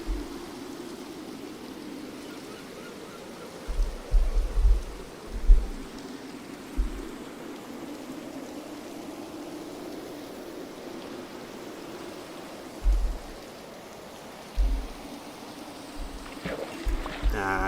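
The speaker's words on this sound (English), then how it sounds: "It stopped raining." Rain falling in Minecraft forms a steady, soft broadband hiss throughout, with a few brief low thumps scattered among the patter and no voices.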